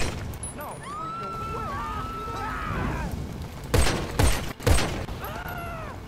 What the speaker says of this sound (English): Incendiary pistol!